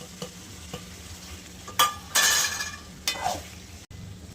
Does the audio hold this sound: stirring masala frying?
yes